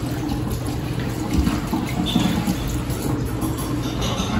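Tap water runs through the condenser of a distillation setup in a science lab, giving a steady trickling, gurgling flow at close range with small splashy surges and no talking.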